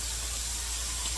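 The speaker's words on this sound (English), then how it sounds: "frying up some of this Canadian bacon I got from Costco" Canadian bacon sizzling in a frying pan, a steady close-up hiss and crackle of fat with a low hum underneath, no talking.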